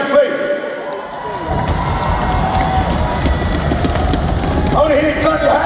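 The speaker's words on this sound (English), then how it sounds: "Ladies and gentlemen, I want to hear you stamp your feet." Arena crowd at Wembley Arena during a rock performance, a loud dense roar of many people stamping and cheering that swells and holds steady throughout.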